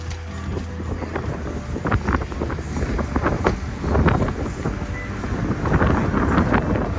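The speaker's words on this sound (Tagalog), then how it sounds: "Lakas naman yung hangin, kahit mainit, mahangin naman." Gusty wind buffets the microphone in rough, irregular bursts outside a mall in Laguna, Philippines, loud and close, with no voices.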